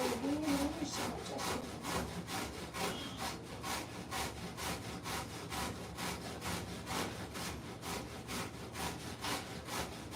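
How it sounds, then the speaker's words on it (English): Hard sweet potato shredded by hand, with a rapid, regular rasping stroke repeating about twice per second, close and fairly faint, with no talking. "the sweet potato is quite hard, and so we shred it"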